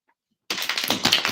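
A deck of tarot cards is shuffled up close in a quick burst of rapid, crisp riffling flutters that starts suddenly after a brief silence.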